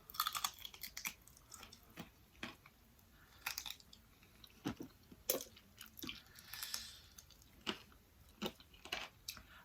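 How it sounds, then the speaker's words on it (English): Close, crisp crunching and chewing of spicy fried chicken joints with noodles, a steady run of sharp bites and wet mastication sounds over nearly ten seconds, no talking. "I ate the joints too, so if the crunching bothers you"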